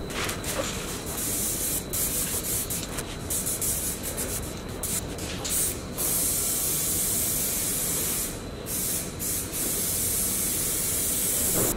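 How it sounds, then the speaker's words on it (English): An aerosol spray can hisses steadily and loudly in long, continuous bursts with brief pauses while paint is sprayed onto a car's chrome roof rails. "I'm going to use that to spray these roof rails"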